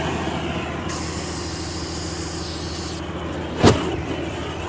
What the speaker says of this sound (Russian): Все, колесо качается.